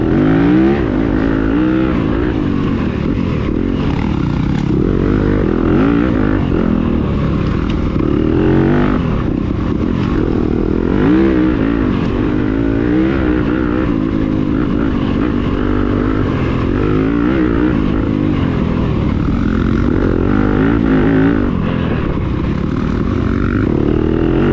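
Enduro dirt bike ridden hard through a sprint enduro race course in Ovett, Mississippi, its engine revving and surging continuously up close, loud and steady throughout with constant rise and fall of throttle.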